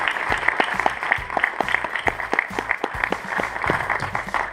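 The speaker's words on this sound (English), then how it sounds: "give the Wendell Scott Foundation, StoryCorps, and the NASCAR Hall of Fame another round of applause for this amazing event" Audience applause at a Wendell Scott Foundation event held at the NASCAR Hall of Fame, with steady rhythmic clapping at close range, a bright repeated patter beating on and on without any talk over it.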